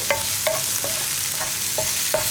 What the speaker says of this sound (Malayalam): അപ്പോൾ മഞ്ഞൾപ്പൊടിയും കൂടി ചേർത്ത് നന്നായിട്ട് ഇളക്കി ഇനി വെണ്ടയ്ക്ക ഒന്ന് കുക്കായി തുടങ്ങട്ടെ